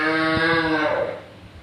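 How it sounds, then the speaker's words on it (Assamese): A cow moos loudly and close by, one long harmonic call that swells and then fades over about a second and a half, with no talk. "বাপ্পা এই ভইচ অভাৰ দিয়াতে গৰুটো শান্তি দিয়া নাই"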